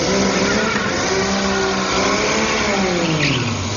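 The old Gladiator race car launches off the line at a grass hill climb, its engine loud and close with a steady roar, rising and falling harmonics as it pulls away.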